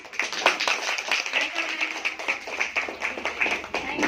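An audience at a skin treatment and makeup training session claps to welcome the trainer back, a loose run of rapid hand claps with a voice talking over the applause.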